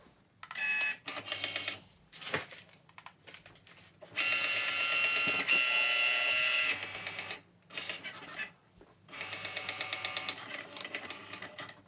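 An electronic cutting machine slices patterned iron-on heat-transfer vinyl at default pressure. Its motor whirs in several close, steady bursts separated by short pauses, with no talking.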